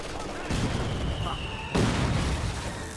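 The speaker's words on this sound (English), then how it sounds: "mortar spam from the AI" Mortar fire from the AI in Company of Heroes 2, two heavy booming impacts landing over continuous battle noise and gunfire, with people talking throughout.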